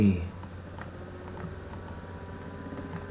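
Keyboard typing for a dimension entry in SolidWorks CAD software, with a handful of light, separate key clicks and a final Enter press, quiet and close, over a low steady background hum.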